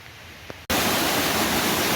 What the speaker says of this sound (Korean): 물이 아주 시원하게 내려가고 있습니다